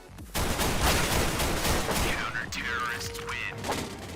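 Rapid automatic pistol fire from a CZ-75 in CS:GO, a dense continuous burst of close, loud shots running for several seconds after a brief quiet start, with other game sounds mixed in.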